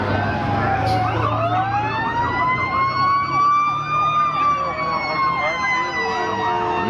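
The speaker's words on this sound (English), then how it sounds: "noise from the sirens is that much closer." Police car and fire truck sirens at a town parade, wailing tones rising and falling as they draw closer along the street, loud over a rumbling truck engine.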